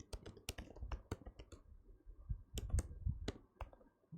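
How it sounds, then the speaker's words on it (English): Computer keyboard keys tapped in irregular bursts while typing a host name at a command line, close and crisp clicks with short pauses between clusters, no talking. "here I'll type my host name"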